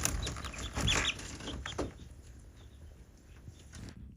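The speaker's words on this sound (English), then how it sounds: "accidentally let the chickens out" Chickens cluck nearby in short, irregular bursts, with light pattering and rustling around them and no speech.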